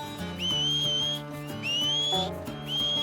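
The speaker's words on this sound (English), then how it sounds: "Oh, this guy's whistling to his horse." Three rising whistle calls are blown by a man summoning his horse in Red Dead Redemption 2, clear and fairly close over soft background music.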